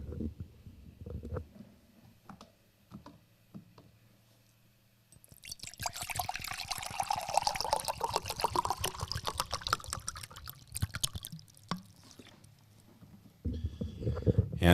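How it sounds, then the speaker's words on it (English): Water is poured into a mug, a steady gushing stream lasting several seconds whose tone rises as the mug fills, after quiet handling noises. "I'm going to fill my mug."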